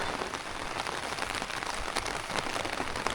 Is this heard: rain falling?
yes